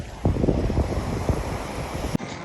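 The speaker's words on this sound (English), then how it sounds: "It's windy" Gusty wind buffets the microphone at the Biloxi, Mississippi waterfront, a steady broadband roar with stronger bursts and a sharp thump near the end.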